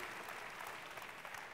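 A church congregation applauding, a dense steady wash of many hands clapping at once, fairly distant and even throughout.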